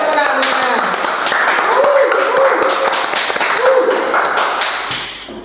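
A small podcast audience claps steadily for several seconds, dense close-up hand claps with a couple of brief voices mixed in, fading out toward the end.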